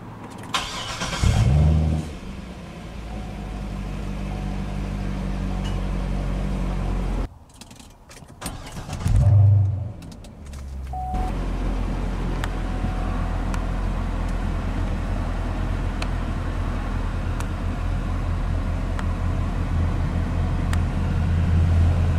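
A 2011 Chevrolet Corvette Grand Sport Convertible with push-button ignition: a brief jingle and click, a loud cranking catch and rev flare, a short gap, then another flare settling into a steady, loud idle that holds to the end.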